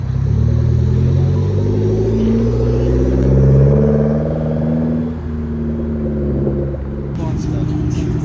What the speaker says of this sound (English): Here comes the wide body Evo